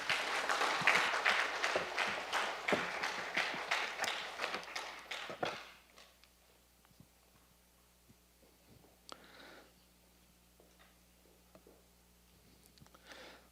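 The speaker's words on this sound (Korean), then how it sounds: "뜨거운 박수로 환영해 주시기 바랍니다" An audience at a lecture academy in Jangseong warmly welcomes a professor with loud, dense clapping that thins out and stops after about five seconds, leaving a quiet room with a few soft thumps and taps.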